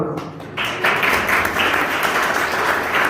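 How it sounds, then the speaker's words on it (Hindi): An audience at a religious gathering claps together, a loud dense round of applause that starts after a moment and continues evenly to the end. "ताली बजाओ एक बार।"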